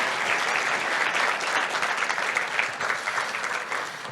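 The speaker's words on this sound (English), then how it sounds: "Big round of applause" A tech conference audience gives a steady, full round of applause after a JavaScript sockets API talk, with dense continuous clapping holding at an even level throughout.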